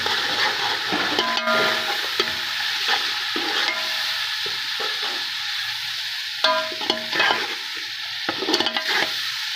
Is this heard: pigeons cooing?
no